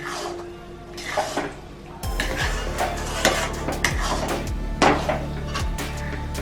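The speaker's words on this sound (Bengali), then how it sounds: "এইরকম ভাবে খুঁচিয়ে খুঁচিয়ে ভালো করে নাড়তে হবে।" Bombay duck (lotte) fish curry stirred and scraped in a pan Bengali style, a metal utensil knocking and scraping repeatedly against the pan over a steady background, close and fairly loud with no talking.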